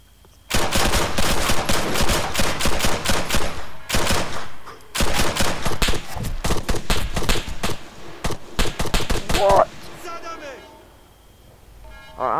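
Automatic gunfire in the video game ARMA 3, with long rapid-fire bursts of close, loud shots broken by brief pauses, then ending in quieter rustling and a faint voice.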